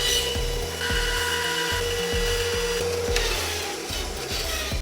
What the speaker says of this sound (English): Once I have my shape, I cut it out on my bandsaw.